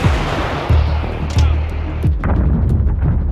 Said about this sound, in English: Ukrainian M777 artillery opens fire.